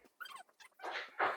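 A pet dog whimpers and whines indoors in a few short, close bursts. Faint breathy sounds come between the cries.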